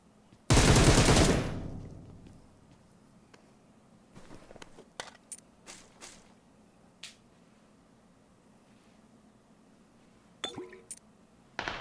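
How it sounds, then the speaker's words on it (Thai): One loud, sharp gunshot rings out and decays in the video game PUBG Mobile, followed by scattered faint clicks and a few distant pops, with no talking. "ได้ยินเสียงปืน"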